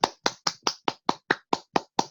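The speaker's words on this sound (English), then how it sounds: "instead, we actually clap our hands" Ten sharp hand claps ring out in a steady, even rhythm at about four per second, each clean and close, with no talking underneath, marking time in a meeting.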